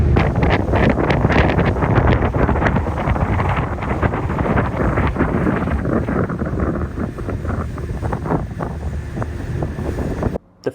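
Strong, steady wind buffets the deck of a departing ferry in the Scottish islands, roaring loudly into the microphone over the rush of water and waves for around ten seconds before cutting off abruptly.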